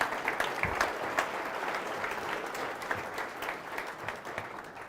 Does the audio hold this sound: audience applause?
yes